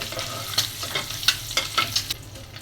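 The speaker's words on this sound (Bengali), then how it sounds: "এখন কোয়েল পাখির ডিমটা ভেজে নিচ্ছি।" Quail eggs frying in a home kitchen pan: a soft continuous sizzle broken by irregular scraping and stirring clicks, close and fairly quiet.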